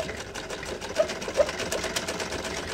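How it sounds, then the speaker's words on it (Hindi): A sewing machine runs in a fast, steady mechanical rattle as it stitches fabric strips for dupatta tassels at one-inch spacing, moderately close with a couple of small knocks. "हमने 1 इंच के हिसाब से इसको सिलाई लगा लेनी है सारी पट्टियों को"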